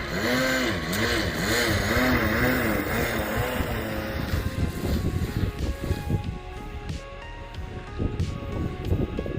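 A Direct Connection Hawker Sea Fury model airplane engine drones steadily in flight with a rising and falling whine as it passes, loud and continuous, with wind buffeting the microphone.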